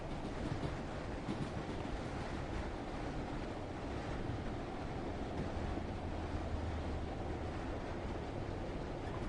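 A British Rail Class 146 multiple unit train runs on a London commuter route in Train Sim World 2, giving a steady, continuous rumble and roar with faint rhythmic wheel noise throughout and no talking.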